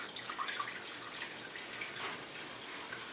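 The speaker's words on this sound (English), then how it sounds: "I'm going to put my water in." Water pours steadily into the pot of a Ninja 3 in 1 cooker while stuffed cabbage is prepared, a continuous close splashing rush lasting the whole stretch with no talk over it.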